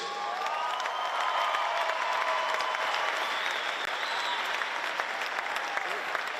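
A big crowd at the Torian Pro 2019 fitness competition applauds a team, with steady clapping mixed with cheers and whistles that keeps going at full strength the whole time.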